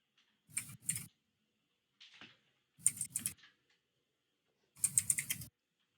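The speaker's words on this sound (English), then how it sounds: "I can hear you typing." Someone types on a computer keyboard during an online game stream call, with short separate bursts of crisp key clicks and quiet gaps between them, close to the microphone.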